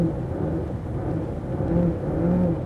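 Selva XSR outboard motor on a sporty Selva 600 Endeavour boat, a steady low engine roar that swells into a louder rev toward the end, close and continuous with no voices.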